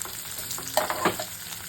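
Fried potato with sliced onion and green chili sizzles softly in a pan for a spicy small-fish curry, a steady low crackle with a couple of brief louder scraping stirs and no talking.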